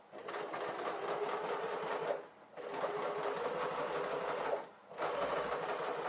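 A sewing machine stitches a 1.5 princess seam in three close, steady whirring bursts, each cut off by a short pause, with no talking.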